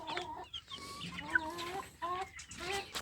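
Chickens cluck softly and intermittently on a free-range chicken farm, several birds close by with brief rising calls, fairly quiet overall.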